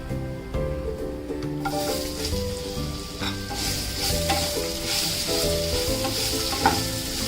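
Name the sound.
sautéing raw mango pieces in spices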